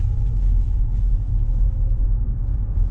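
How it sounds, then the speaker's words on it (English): Electric car setting off from a standstill, heard from inside as a steady low road rumble and faint hum with no engine note, continuous and fairly loud for about three seconds. "one of my favorite experiences of electric cars is actually when you first set off"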